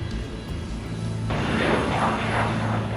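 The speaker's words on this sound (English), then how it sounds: "a flight is just touching down from Kiev" A passenger flight from Kiev touches down at an airport's South Terminal; a steady low rumble swells into a loud, broad jet roar partway through and holds there.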